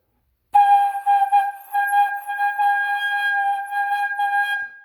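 Flute headjoint alone blown with too much air directed into it, giving a steady, clear whistle-like tone near 900 Hz with strong overtones, sustained for about four seconds with slight breath pulses, close and fairly loud.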